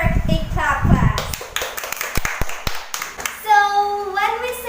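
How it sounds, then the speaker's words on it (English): In a classroom, a short burst of clapping from a class follows a voice, then a few scattered claps and a higher voice speaking. "Let's give her a clap, class."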